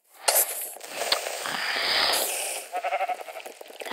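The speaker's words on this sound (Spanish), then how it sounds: "Una oveja pensaba que era un lobo." A sheep bleating in a survival video game, a short wavering bleat close up amid game noises, followed by a few quick stuttering bleats.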